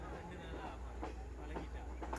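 A passenger train on the Badulla line rumbles along with a steady low drone and faint rhythmic clatter of wheels, heard from inside the carriage at low level.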